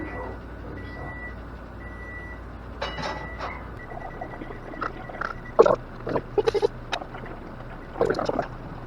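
Kitchen timer on a stovetop while a pot of snapper piquant simmers, a few short, thin repeated beeps early on, followed by scattered clatter and kitchen handling noises.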